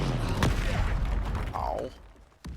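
A Confringo fire spell from Hogwarts Legacy bursts with a sharp crack near the start, followed by busy game clatter and a brief rising whoosh, then a second sharp hit near the end.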